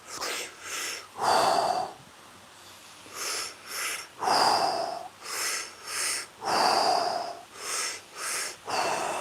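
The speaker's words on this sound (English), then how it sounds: "Nice big full breaths in. 2-stage continuous breath." Deep rhythmic breathing in a two-stage pattern, each cycle a pair of quick inhales followed by a longer, louder exhale, repeated several times close up with no talking.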